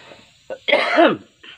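A man coughs while working with a white-steel machete blade, giving a few short throat sounds followed by one loud, close, rasping cough.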